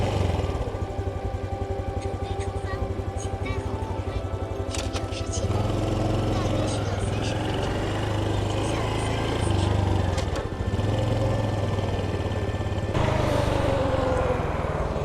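A motorcycle being ridden along a road, its engine droning steadily throughout with shifts in pitch and load and wind noise, while a voice talks over it.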